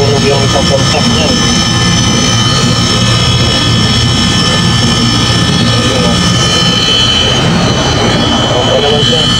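A reconditioned air conditioning unit runs continuously with a loud, steady mechanical roar and whoosh, while voices are heard talking over it.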